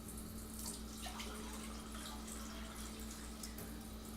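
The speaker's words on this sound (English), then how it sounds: "let me add some more cold water to that" Cold well water runs in a steady, continuous stream as it is poured into a kombucha jar, with a close, even splashing rush throughout.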